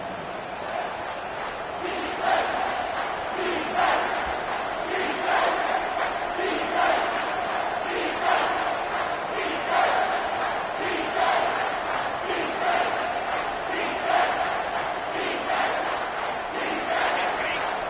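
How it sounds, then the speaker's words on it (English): A football stadium crowd roars steadily through a late-game red zone defensive stand on third down and goal, a dense, sustained wall of cheering and yelling with rhythmic swells and chant-like pulses, loud and continuous throughout. "This crowd is trying to inspire this defense to make a big red zone stop."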